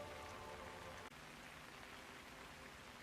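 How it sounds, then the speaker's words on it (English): Rain pours steadily in the Chongqing level of Hitman 3, a dense, even hiss of drops on surfaces that stays constant and fairly soft, briefly cutting out for an instant partway through. "Look at this rain."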